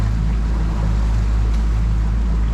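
Engine running on a 220 Ocean Pro boat, a loud, steady low rumble with a constant drone held throughout, heard close with no voices.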